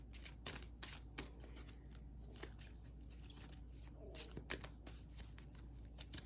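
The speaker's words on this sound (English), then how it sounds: "another of my favorite oracle decks happens to be the fortune reading cards. So I thought we'd shuffle one of these out." Fortune reading oracle cards being shuffled, giving soft, irregular papery riffles and taps up close over a steady low room hum.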